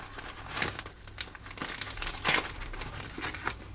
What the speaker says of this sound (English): Make sure there's nothing in the end of the jiffy bag.